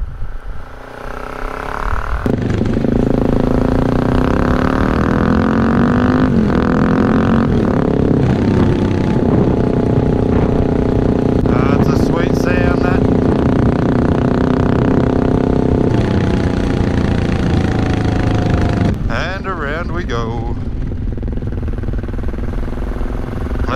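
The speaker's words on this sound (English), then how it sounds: "Hear that exhaust again, eh?" A Suzuki DRZ400 motorcycle's exhaust drones loud and close during a road ride near the coast, its tone rising and falling as the throttle changes, with no talking.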